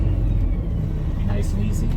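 A 2025 Peterbilt 567 day cab with a Paccar TX-12 automated transmission easing slowly backward, its engine a low, steady rumble heard close up under a voice.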